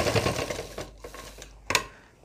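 A sewing machine stitches along the folded waistband of a salwar in short bursts of rapid mechanical whirring, close and fairly loud, with a few sharp clacks as it stops and starts.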